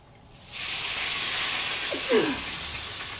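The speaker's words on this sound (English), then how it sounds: "Now I'm going to pour off just a little bit of this oil." A steady hiss of hot oil in a pan fills the clip, with a brief gurgling trickle as some is poured off near the end. No one speaks.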